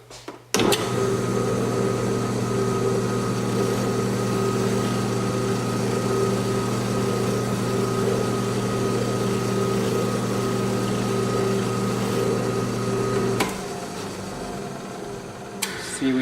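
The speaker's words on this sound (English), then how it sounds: "on the burnisher and we smooth out all the edges" An edge-burnishing machine whirs steadily as the edges of a leather vintage passport wallet are smoothed against it, a constant loud motor hum that drops off near the end.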